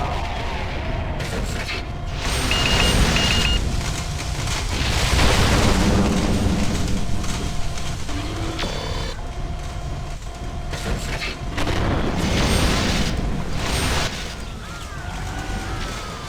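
Mech weapons fire and explosions roar in the MechWarrior 4: Mercenaries game on a Solaris 7 jungle arena, with dense booms, rumbling blasts and mechanical clanks rolling continuously and loudly in waves, no voices.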